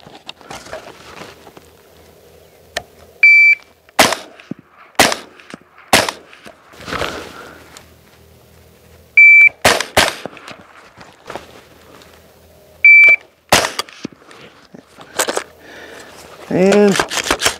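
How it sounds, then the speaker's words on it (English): Suppressed supersonic 300 Blackout rounds fired from a custom AR-15 with a 9-inch barrel: about a dozen sharp, punchy reports in irregular succession, some spaced singly and some in quick pairs, with a brief voice near the end. "So that was 300 Blackout, supersonics, suppressed through this 9-inch 300 Blackout."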